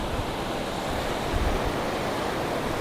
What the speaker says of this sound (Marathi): आता खवळला आहे समुद्र. बघा लाटं बघा कसली येत आहेत